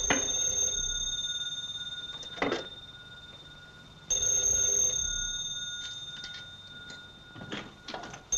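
An old 1930s telephone rings unanswered in two long bursts of bright electric bell tone separated by a pause, with faint clicks and rustles in between.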